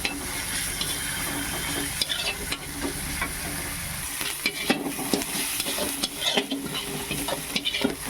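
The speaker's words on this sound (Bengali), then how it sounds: "পেঁয়াজটা যতক্ষণ লাল না হবে ততক্ষণ ভাজতে হবে" Chopped onions frying in oil while a spoon stirs them around the pan, a continuous close sizzle broken by repeated scraping and clinks against the pan.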